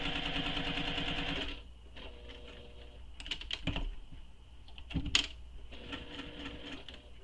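A sewing machine stitches a clutch bag, running in a steady, close buzz before pausing, then short bursts and clicks of handling, and the motor resumes near the end.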